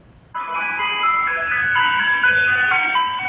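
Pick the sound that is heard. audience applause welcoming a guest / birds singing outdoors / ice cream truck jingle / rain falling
ice cream truck jingle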